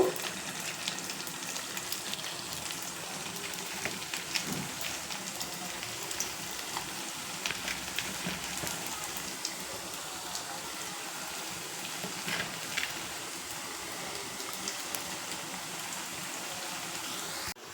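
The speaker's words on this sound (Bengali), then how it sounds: "বড়াগুলো একইভাবে ভেজে নেব" Steady crackling sizzle of carrot fritters frying in hot oil, continuous and fairly close, with no talking.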